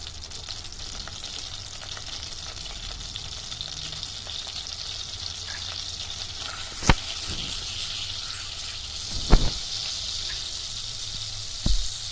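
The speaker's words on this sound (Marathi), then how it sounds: "बटर चांगलं वितळू द्या" Butter melts and sizzles in a pan for butter paneer masala, a steady close crackling hiss with a few sharper clinks from the pan partway through.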